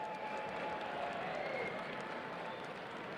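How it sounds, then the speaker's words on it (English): A live fight event crowd applauds steadily, dense clapping mixed with crowd noise at moderate distance, a faint tonal whistle or voice line running over it, with no clear pauses over a few seconds. "one more round of applause for Mr. Boom Truck"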